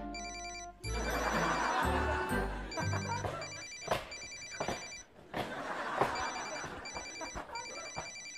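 A telephone rings in repeated bursts of bright electronic tones, several rings in a row over a room with music and background sound.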